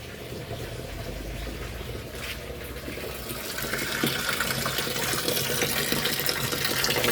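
Water running into the tub of a Sharp ES-TW70BL twin-tub washing machine under repair, a steady gushing fill that grows somewhat louder and brighter partway through, close and continuous with no talk.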